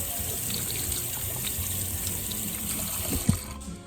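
Oil paint brush rinsed under running water from a tap, a steady close-up trickle and splash with a faint knock near the end.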